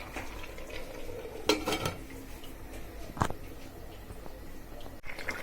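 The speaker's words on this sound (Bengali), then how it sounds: "সবজিগুলো কষে যাওয়ার পর আমি মাছের মাথাগুলো দিয়ে দিলাম।" Fish heads go into a pan of sautéing winter vegetables, with a low sizzle broken by a few sharp metallic clanks of a utensil against the pan.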